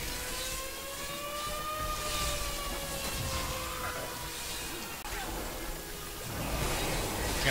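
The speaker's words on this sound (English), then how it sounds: "Ignore the air raid siren." An old fire station air raid siren drones from a distance, a long sustained tone that slowly slides in pitch, layered over a broad, steady background hum.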